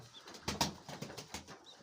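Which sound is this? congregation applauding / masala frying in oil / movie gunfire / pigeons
pigeons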